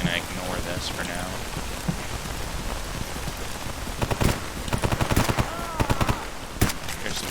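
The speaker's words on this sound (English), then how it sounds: "There's some gunfire going on here." Gunfire in the video game S.T.A.L.K.E.R. G.A.M.M.A.: scattered sharp shots with bursts of rapid fire that cluster toward the end, over a continuous rain-like background hiss.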